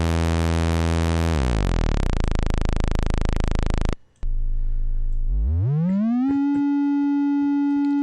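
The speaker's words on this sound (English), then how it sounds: "The sawtooth is also a little bit harsh." A bright, buzzy sawtooth-wave synthesizer tone in VCV Rack holds and its pitch slides down, breaks off briefly, then a new tone sweeps upward and settles into a steady pitch.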